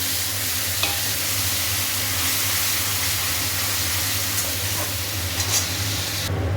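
Tomato paste sizzles in hot oil tempered with black cumin, a loud, dense, continuous frying hiss close up, steady throughout with a few faint stirring clinks and no speech.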